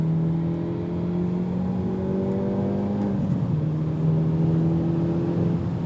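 A 2023 Hyundai Elantra N with a turbo 4-cylinder engine accelerates on a track, its engine tone climbing through a gear, dipping briefly at a shift around midway, then rising again under steady road and wind noise.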